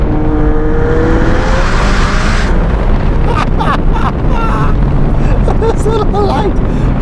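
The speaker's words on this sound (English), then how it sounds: "what do we got that 4-litre twin turbocharged V8 up in the back, 7-speed flappy paddle gearbox, double clutch" McLaren 720S with a 4-litre twin-turbo V8, Novitec exhaust and a 7-speed dual-clutch gearbox, roaring loudly close by through heavy wind buffeting, with rising and shifting engine tones and a voice talking over it.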